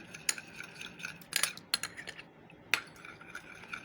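A spoon mixing a small batch of homemade lip and cheek tint in a little dish, giving scattered light clinks and scrapes of metal against the container, close and fairly quiet, with no voices.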